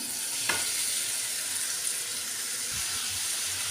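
Bitter gourd and tomato sizzle and hiss steadily in a hot pan, with a brief clink of a utensil and no voices.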